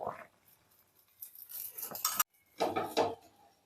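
Puran poli being flipped over on a pan makes a few short bursts of metallic scraping and clatter, separated by quiet gaps, close and moderately loud.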